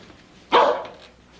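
A dog lets out one sharp, loud bark that trails off, preceded and followed by near quiet.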